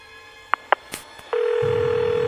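Phone call going through after dialing: a few key taps and clicks, then a steady, continuous ringback tone that holds loud and unbroken to the end with no voices.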